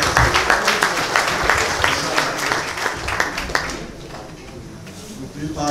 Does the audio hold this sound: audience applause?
yes